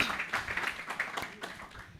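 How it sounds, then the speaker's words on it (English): A small audience at the end of a lab-to-market roadmap talk gives a short round of applause. Faint, sparse claps patter in a brief burst, somewhat distant, with a little speech in the room. "let's give ourselves a round of applause for waking up"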